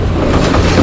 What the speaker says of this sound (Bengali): ঠক ঠক করে রেলগুলো যাচ্ছে ঢাকামুখী।